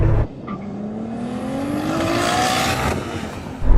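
A Ferrari SF90 launches from a race start with a loud, close engine roar that climbs steadily in pitch through the gears, with a sharp burst at the very end.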